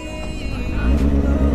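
Car engines idle and rumble in a jammed street, with a steady low drone that swells slightly toward the end and passing traffic heard up close from inside the flow.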